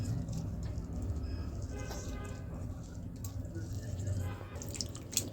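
Lemon juice squeezed from a wedge drips onto raw mutton pieces in a series of small, soft drips under quiet kitchen background noise and some talk.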